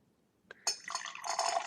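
Pineapple juice is poured for a martini-style cocktail, a soft clink followed by a steady, close splashing stream of liquid filling a vessel in a quiet room.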